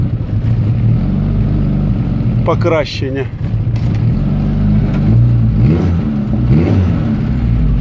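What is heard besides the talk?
ZAZ car engine starting and revving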